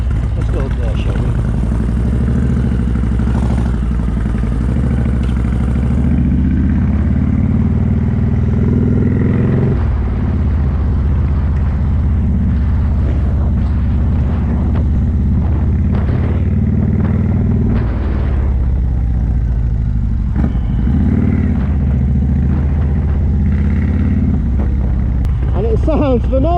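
Velos V-twin superbike engine rumbling deep and loud while being ridden, with throttle swells and dips over a sustained run and a voice speaking at times.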